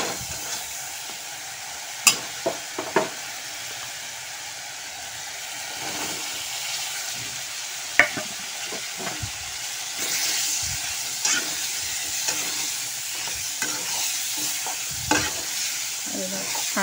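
Spices frying in a hot pan for an Assamese home-cooked dish, a steady close sizzle and hiss with occasional stirring scrapes and clicks, no talking.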